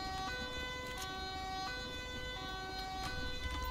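A wailing ambulance siren in the video game GTA 5 sounds steadily over a constant engine rumble, close and continuous with no voices.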